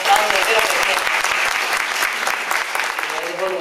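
Loud, sustained applause from an audience at an evening event in Bussolengo, a dense steady clapping that fills the room, with voices mixed in beneath it.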